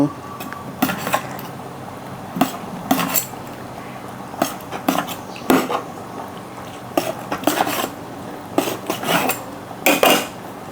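Knife strikes on a cutting board while pork stomach is sliced, irregular sharp knocks and clatters up close, with someone talking between cuts.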